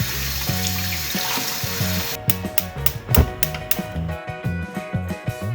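Turkey breast being washed under a running kitchen tap, with steady gushing water at first and then irregular splashing and clattering as the meat is handled in the sink, close by and with no talking.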